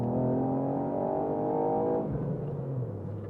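A Ford Fiesta ST engine revs, a loud rising harmonic drone held for two seconds before dropping off as the note falls away, with no talk.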